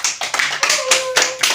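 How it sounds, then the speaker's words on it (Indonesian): A university English class claps hands together in a quick series of sharp, close bursts, roughly in rhythm, with a faint sustained tone running beneath part of it. "Tepuk tangan dulu."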